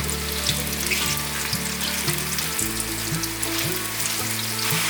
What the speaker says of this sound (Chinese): 油热了之后，把芋头放入锅内， 把芋头炸至外皮有点变色